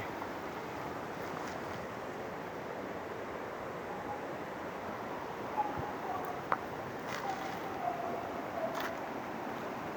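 A clear mountain stream, swollen after heavy rain, flows steadily as a continuous broadband rush of water, with no speech over it.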